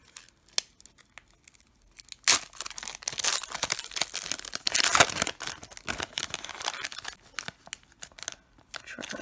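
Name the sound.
tearing open NFL trading card packs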